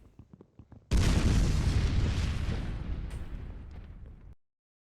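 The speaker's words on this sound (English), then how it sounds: "Thank you for the explosion." A Minecraft SkyFactory explosion: a sudden loud boom with a rumbling, crackling tail that fades over about three seconds, following a few soft game clicks.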